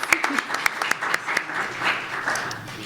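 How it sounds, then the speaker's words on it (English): Scattered applause from an audience at a panel discussion on education justice greets a panelist; individual claps ring out fairly sparsely and unevenly, with a voice audible partway through. "Give him a round of applause."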